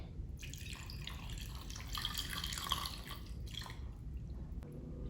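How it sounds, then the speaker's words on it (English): Tap water pours steadily into a bowl for microwave pasta, a continuous close splashing stream lasting several seconds before it stops. "I'm now going to put water for it to boil"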